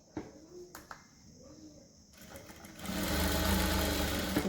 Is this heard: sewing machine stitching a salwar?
yes